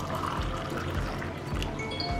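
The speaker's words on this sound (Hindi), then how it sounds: "मग्गा के अंदर मैं डाल दूंगी 1 कप गरम पानी" One cup of hot water poured steadily into a mug, a continuous close trickling splash lasting about two seconds.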